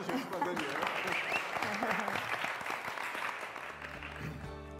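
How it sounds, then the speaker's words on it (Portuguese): An audience at a book launch applauds with steady, moderately distant clapping that continues throughout, with voices talking over it, and a musical tone enters near the end. "Aplausos, gente, pra Daniel."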